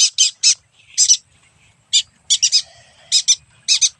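A pet bird in free flight gives sharp, loud squawking calls in short bursts of one to three notes, repeated irregularly over a few seconds, close and clear against a quiet background.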